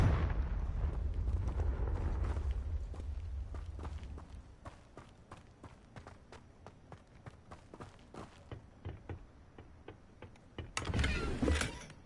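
In the video game Hogwarts Legacy, a Confringo blasting spell goes off as a loud rumbling blast that fades into scattered crackles and debris clatter, then ends in a sharp final burst.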